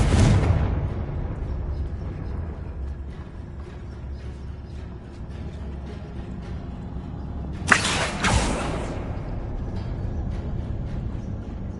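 An explosive Confringo spell goes off in Hogwarts Legacy, a loud burst at the start that fades into ambient game noise, then a second sharp crackling blast later on.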